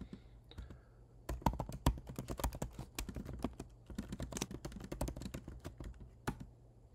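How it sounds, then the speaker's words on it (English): Rapid, uneven keystrokes on a computer keyboard as a text prompt for an image generator is typed in, close and clear, with no talking over the clatter. "this isn't letting me copy and paste, so I'm going to just go ahead and type it in."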